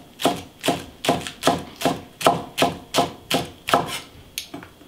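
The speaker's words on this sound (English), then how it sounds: "Just gonna cut some green onion." A knife chopping green onion on a cutting board, about eleven crisp, evenly spaced cuts close up, with no voice.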